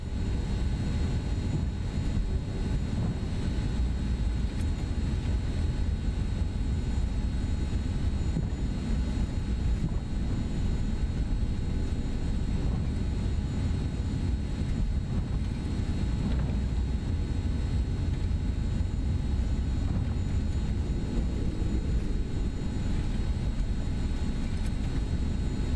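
SimWorks Kodiak 100 turboprop taxiing at Minneapolis in Microsoft Flight Simulator 2024, a steady, loud engine drone with a constant low rumble and faint high whine, unbroken for the whole stretch.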